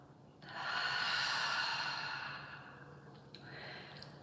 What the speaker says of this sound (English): taking a deep breath in to savor the practice. And an audible exhale out